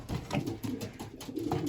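Racing pigeons cooing and fluttering in a loft, a soft continuous murmur of several birds close by with no talking.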